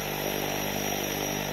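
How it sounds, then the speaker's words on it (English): Small planes taking off from a glacier airstrip at Denali base camp, heard as a steady, distant engine drone that holds even and unbroken with no voices over it. "You can hear the planes taking off."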